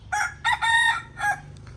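A wild junglefowl cock crows loud and close in a single drawn-out call broken into several bursts, with a faint low hum beneath and no talking.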